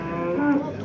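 A calf gives a single short, close moo at the Karakol livestock market, clear against low background murmur.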